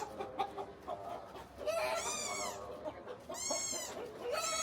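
Hens on a rooftop farm cluck and call in a couple of drawn-out, rising bursts, fairly close, over a steady background murmur.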